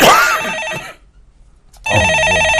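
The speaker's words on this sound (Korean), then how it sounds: "아니요, 제가 전화 받겠습니다" A telephone in a call-in show studio rings loud and close with a trilling electronic bell, two bursts separated by a short pause, with no voices.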